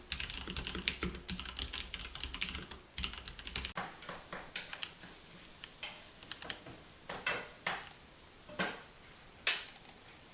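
Typing on a Cherry Xtrfy MX8.2 TKL wireless mechanical gaming keyboard, with crisp, close keystrokes in irregular bursts followed by sparser single clacks.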